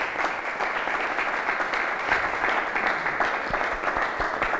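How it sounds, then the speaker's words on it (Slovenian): A studio audience claps steadily for several seconds on a Slovenian Sunday television show, a dense, even wash of applause with no voices over it. "damo en aplavz"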